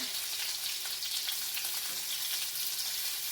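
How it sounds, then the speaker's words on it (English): Lamb chops sear in a hot pan with a steady, close crackling sizzle, soft and continuous, with a few brief scrapes and no talking. "I'm going to let these sear."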